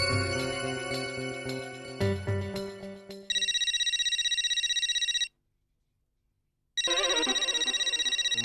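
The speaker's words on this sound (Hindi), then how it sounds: "उमाताई का फोन?" A telephone ringtone plays: a chiming melody, then a bright electronic trill that stops, pauses in silence, and rings again.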